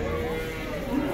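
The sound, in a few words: cattle mooing at a livestock market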